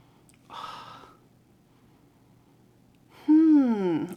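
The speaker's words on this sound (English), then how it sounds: "let's give this one a first sniff" Person sniffing a sweet gourmand perfume, with a short nasal inhale followed after a pause by a longer, louder breath and voiced sigh, close to the mic.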